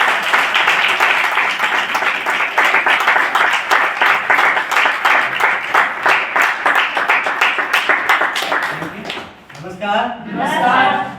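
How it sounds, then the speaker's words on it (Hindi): Loud, dense applause fills a gathering as a crowd claps to welcome a speaker, steady for most of its length before tapering off into a few scattered claps and a voice at the end. "एक जोरदार ताली स्वागत।"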